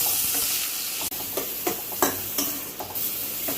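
Salted scrambled egg, chicken and Maggi noodle mixture stirred in a hot frying pan, steady sizzle with repeated scraping strokes of a spatula, close and continuous.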